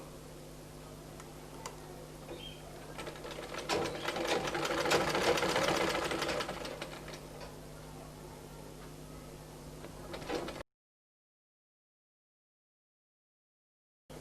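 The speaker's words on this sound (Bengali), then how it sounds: "ঠিক এভাবে আমি প্যান্টের আরেকটা পাশ সেলাই করব" A sewing machine hems a half pants for a one-year-old baby boy with a rapid, even whirring stitch that swells in the middle and then stops, leaving silence.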